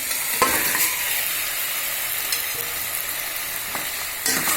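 Chicken pieces frying in a pan for chicken kulambu, stirred steadily: a loud, constant sizzle with occasional scraping and clinking strokes of the spoon, heard alone without talk.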